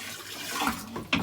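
Tap water runs steadily into a reptile enclosure tank being refilled during a large water change, a continuous close splashing rush with a brief louder gush near the end.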